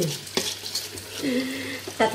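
Sticky rice and chicken wings are stirred in a pot for arroz caldo, with intermittent scraping and stirring strokes over a soft sizzle, close and moderately loud, with no speech.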